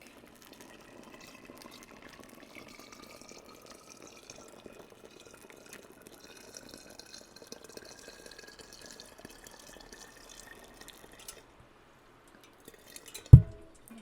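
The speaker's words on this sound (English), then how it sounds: "I've boiled some water and I'm going to pour it into my hot water pack." Freshly boiled water poured into a hot water pack, a faint thin trickle running for over ten seconds with rising pitch as it fills, then a short knock at the end, no talking.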